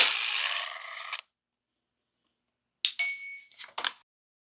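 Supercharger pulley bolts from an Audi 3.0T are dropped into a small metal tray during a DIY install, a rasping zip of a tool first, then after a pause several bright metallic clinks and rattles close up.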